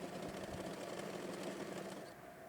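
A sewing machine runs steadily at close range, double-stitching a hijab seam, a fast even whirring chatter that slows and fades slightly at the end.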